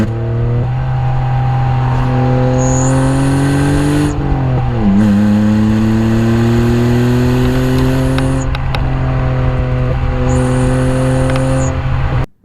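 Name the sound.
BMW E46 engine revving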